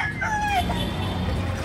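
A native rooster crows once, a bright rising and falling call lasting about half a second, fairly close against a low outdoor murmur of background noise.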